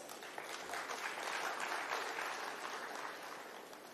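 At an international summit at UPSIFS Lucknow, an audience claps during a sapling presentation to a speaker. The applause is soft and distant, swelling gently and then easing off.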